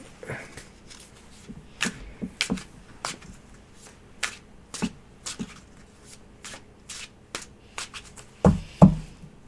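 Tarot cards shuffled by hand close up, a series of crisp riffling snaps and taps in an uneven rhythm, with a few heavier knocks near the end and no talking.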